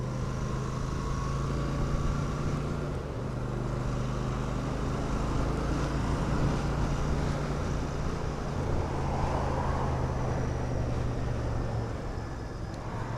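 A Royal Enfield Super Meteor 650 motorcycle engine runs steadily at low revs, a continuous low drone mixed with wind rush and road noise, with no talk.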